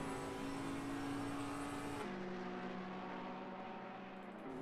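GT race car in Assetto Corsa Competizione at Silverstone lifting off the throttle: steady loud engine drone whose pitch abruptly drops halfway through as the driver backs out, continuing lower and even.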